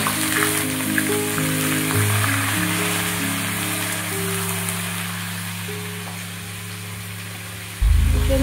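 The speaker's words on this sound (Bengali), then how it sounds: "আমি এখন আলু ফুলকো ছেড়ে দেবো।" Potato and cauliflower pieces fry in hot oil with a continuous soft sizzling hiss under background music, ending in a sudden louder burst.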